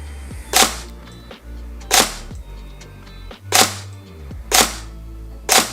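A Tokyo Marui MP5 SD6 Next Gen recoil shock airsoft gun fires five sharp, evenly spaced single clicks or pops, each loud and close, with quiet pauses between them.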